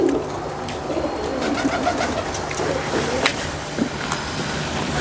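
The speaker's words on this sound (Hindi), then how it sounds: "कबूतरी मैंने हाथ में पकड़ी हुई है" A pigeon held in a person's hand at a pigeon-keeping gathering gives soft, low cooing against steady background noise, with faint scattered calls through the clip.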